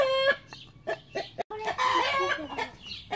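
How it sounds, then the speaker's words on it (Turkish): Chickens and a rooster in a farm coop cluck and crow close by, a run of sharp, harmonic calls with brief pauses between them and no talk over them. "Evet, tavuklar orada."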